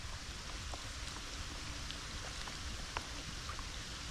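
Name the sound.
rain falling during outdoor pool cleaning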